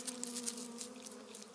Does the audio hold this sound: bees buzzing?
yes